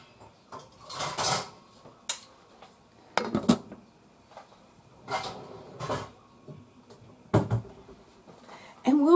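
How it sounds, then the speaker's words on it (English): Metal lid set onto a cooking pot of cranberry orange sauce, a few separate clanks and clatters of pot and utensils in a kitchen, close and moderately loud with pauses between. "So let me get my lid for this pot."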